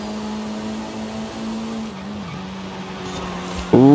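A race car in a racing video game, a B-class car on a wheelspin challenge, holds a steady engine drone as it slides. The engine tone dips partway through, and a sharp louder tire or engine burst ends the clip.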